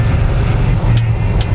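A 1959 Ford F-100 Shiner pickup truck drives along with its engine in a low, steady rumble, close and continuous, with road and cabin noise around it.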